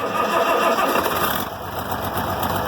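A diesel engine on a hay-making farm machine turns over and catches, then settles into a steady, loud running drone whose tone shifts slightly partway through, with no voices.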